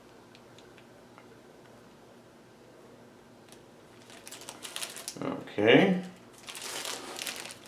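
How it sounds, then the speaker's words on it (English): Plastic packaging is crinkled and torn open while a package is unwrapped and untied at close range, with a louder rustling burst near the end and a brief spoken word at the start. "Unwrap this, untie this first."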